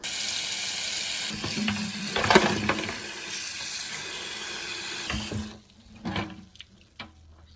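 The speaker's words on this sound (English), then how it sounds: "I just received the polishes, but I'm still paranoid and I'm gonna wash them" OPI Hollywood collection nail polish bottles washed under a running sink tap: steady broad water rush for about five seconds, then the flow stops and a few sharp clinks and splashes of glass bottles follow, close and fairly loud.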